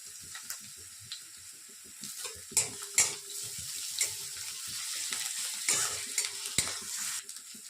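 Grated garlic sizzles in a pan with onions for masala egg pasta, a close, continuous frying hiss with frequent stirring scrapes and light utensil clatter against the pan, and no one talking.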